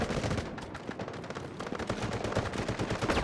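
Rapid automatic gunfire from the mobile shooter Delta Force comes in dense, close, loud bursts of shots that barely pause, with no talk over it.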